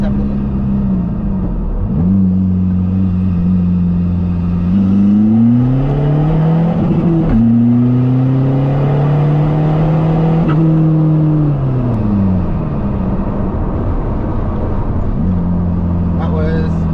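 A diesel Toyota MR2 accelerates hard from 30 to 70, its engine droning and rising steadily in pitch, dropping at a gear change, then climbing again before backing off, with tyre and road noise throughout.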